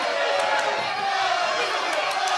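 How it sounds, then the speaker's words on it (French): A crowd roars continuously at a Muay Thai kickboxing Grand Prix match, loud dense cheering and chatter filling the arena without pause. "sous l'acclamation du public"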